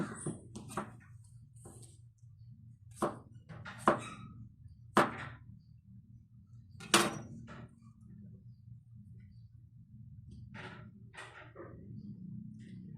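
Garlic cloves being chopped into small pieces with a knife, a handful of sharp, separate chops spaced out over a quiet room hum with no talking.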